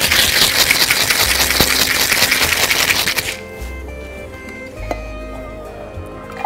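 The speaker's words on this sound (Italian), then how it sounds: "andremo a shakerare." A cocktail of spumante d'Asti and vermouth is shaken hard in a Boston shaker for about three seconds, a loud dense rattle of ice over background music, which then continues alone.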